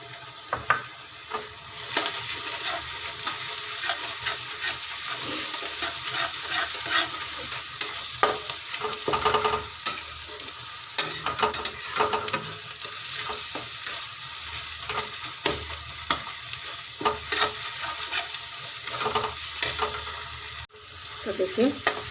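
Onion frying in a pan with ginger-garlic paste and crushed black cardamom, a steady close sizzle with stirring scrapes throughout, no talking.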